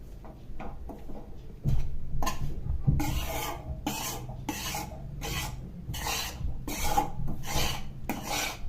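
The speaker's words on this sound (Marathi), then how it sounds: "जरा जाडबुडाचं भांड घ्यायचंय आणि त्यातच हे भाजून घ्यायची कणिक" Wheat flour roasts in a heavy-bottomed pan while a spoon stirs it, a steady run of close, dry scraping strokes in a regular back-and-forth rhythm, with no voices.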